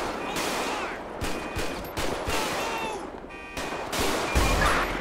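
A police shootout in GTA V with the LSPDFR mod: loud, dense gunfire in rapid overlapping bursts, with a few brief pauses and heavier volleys toward the end.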